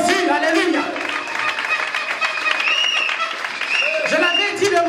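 A church congregation applauds and cheers, a steady, full wash of clapping and crowd voices running throughout, loud and close, with singing or shouted voices mixed in.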